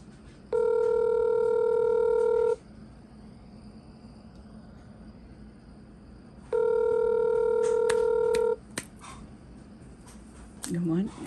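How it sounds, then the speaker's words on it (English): Two long electronic ring tones over a phone line, each about two seconds, separated by a quiet pause, with faint background noise and a brief voice at the end. "Okay, it's ringing."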